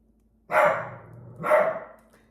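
Two loud dog barks, about a second apart, close by and with nothing else around them.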